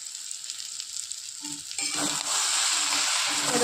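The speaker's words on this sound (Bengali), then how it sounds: "এরকম হালকা আঁচে আস্তে আস্তে বেগুনটাকে আমি ভাজা ভাজা করি" Eggplant frying slowly on low heat with a little sugar gives a soft, even sizzle that grows fuller and louder partway through as stirring adds a brief clatter. The sound is close, and nobody talks.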